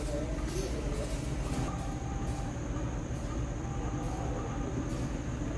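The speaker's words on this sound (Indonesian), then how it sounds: "ternyata kereta api angkutan Batu Balas" Indonesian ballast freight train rolling steadily past on the line, a dense continuous rumble and clatter of wagons with constant loudness throughout, some faint voice traces in the station background.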